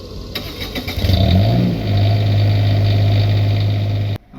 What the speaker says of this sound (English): Okay, now the generator is going.